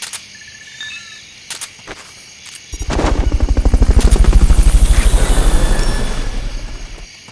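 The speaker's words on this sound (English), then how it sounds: "Fulton recovery helicopter is complete" Fulton recovery helicopter from Metal Gear Solid: Peace Walker, bursting in loud after quiet game ambience with a rapid, steady rotor thump and roar that holds for several seconds before easing off.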